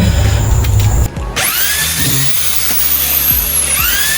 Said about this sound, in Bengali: ওনারা ড্রিল করে নিচ্ছিল ভালোভাবে কোথায় কি করতে হবে